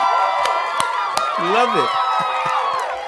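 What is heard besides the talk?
studio round of applause sound effect played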